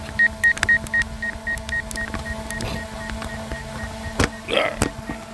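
A series of short electronic beeps from a DJI Mavic Air 2 drone controller repeats in quick, regular succession, then breaks into scattered louder clicks and tones near the end.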